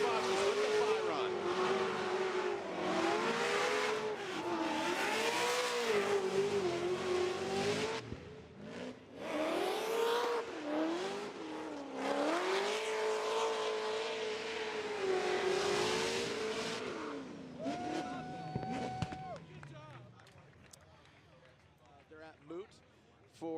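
A drift car makes a Formula Drift competition run, its engine rising and falling in long wailing revs with tire squeal over about twenty seconds before it winds down. People talk over it.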